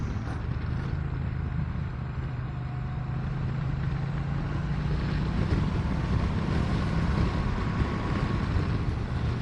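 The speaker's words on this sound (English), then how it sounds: "Riding the Triumph Bonneville T120 today." A 2022 Triumph Bonneville T120 motorcycle rides along an open road, its steady low engine drone running continuously beneath heavy wind rush, with no speech.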